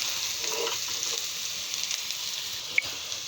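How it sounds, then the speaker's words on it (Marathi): Bitter gourd (karela) pieces fry in a pan with a steady, close hissing sizzle that runs unbroken throughout, plus a single faint tap near the end. "जैसे मैंने देखा वैसे थोड़े थोड़े फ्राई हो रही है अपने करेले, फ्राय हो रहे."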